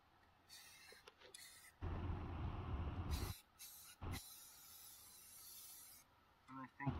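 Spray paint being applied in even coats over a car rust repair, in several bursts of close, loud hiss: short taps, then a long sustained spray, then brief passes, with quiet pauses between.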